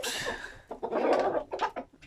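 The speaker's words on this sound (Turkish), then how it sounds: "çok güzel bir horoz bu" A rooster kept with hens at a small home flock, giving a few loud, close calls in separate bursts with short gaps between, no talk over them.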